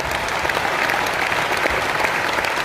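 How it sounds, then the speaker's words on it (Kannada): A crowd at a program gathering breaks into loud, sustained applause, a dense, even wash of clapping that fills the whole moment, with no talk audible. "ಸೊ ಜೋರಾದ ಚಪ್ಪಾಳೆ"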